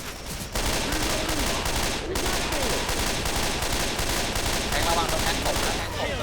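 Continuous rapid automatic gunfire rattles on for several seconds in the zombie shooter Left 4 Dead 2, loud and dense with fast repeating shots, while players talk underneath.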